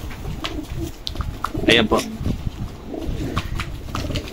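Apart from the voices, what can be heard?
pigeons cooing, opal line pigeons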